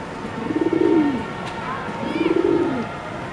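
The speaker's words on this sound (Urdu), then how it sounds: "یہ ہے جی کبوتر بٹیرا 35 والا، بہت ہی شاندار کبوتر ہے" Bred pigeons offered for sale give two close, soft, rolling coos, one after another, with faint background noise between them.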